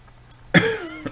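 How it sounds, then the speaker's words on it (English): A single sharp cough close to the microphone bursts out after a quiet moment, followed by a fading throaty tail and a faint breath. "Excuse me, still have my cough."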